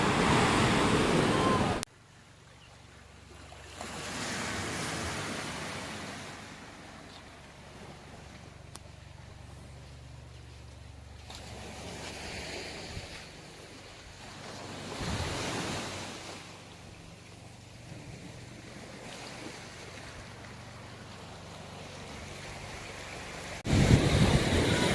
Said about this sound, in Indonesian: ini ombak yang di Hawaii ini sangat kencang